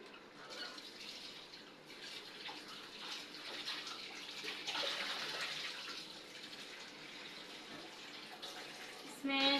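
Water runs and splashes steadily as salted potatoes are washed in a home kitchen, with someone talking over it.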